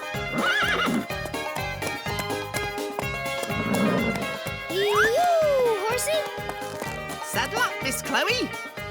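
A cartoon horse gives a couple of loud, rising and falling neighs over a steady clip-clop of hooves, set against bright background music.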